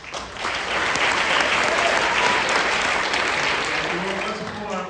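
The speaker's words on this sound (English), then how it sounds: "Let's hold our applause to the end." Audience applause at a spring band concert swells in quickly and holds as a full, steady round of clapping, fairly loud, easing slightly toward the end.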